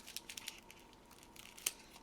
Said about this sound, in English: Put the scissors in the wrong jar.